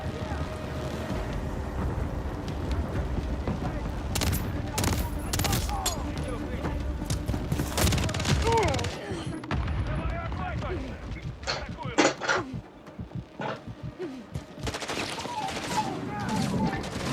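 Rapid bursts of gunfire and sharp explosive cracks from the Call of Duty: MW3 (2023) campaign mission Precious Cargo, dense and loud throughout with chaotic battle noise between volleys.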